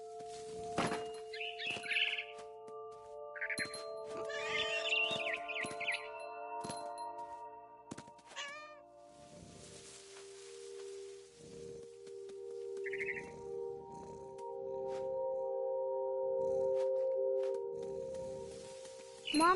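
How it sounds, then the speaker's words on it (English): Chirps of a barn swallow in the video game What Remains of Edith Finch come in scattered short bursts, soft and high. They sit among sustained musical tones, light clinks and quiet in-game ambience. "Then I heard chirping outside my window. It was a barn swallow going back to her nest."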